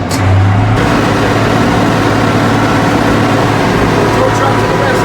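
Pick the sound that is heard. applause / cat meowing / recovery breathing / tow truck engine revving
tow truck engine revving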